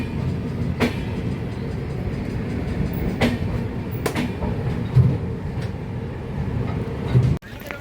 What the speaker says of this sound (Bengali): মোদিজির কামাল এক্সপ্রেস, বন্দে ভারত।